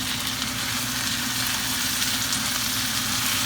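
Ackee and saltfish sautéing in a pan, a continuous loud close sizzle with a constant crackling hiss and no talk.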